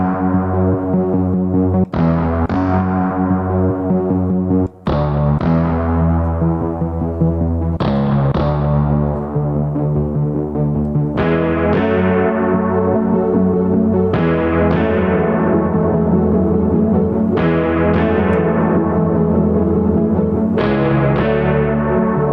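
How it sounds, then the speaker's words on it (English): An 80s-style guitar patch with a layered polysynth arpeggio underneath, heavy with effects, plays continuously and loud, its chords re-struck about every three seconds with shimmering repeats. "it's a 80s sounding kind of guitar with some polysynths layered underneath doing like an ARP"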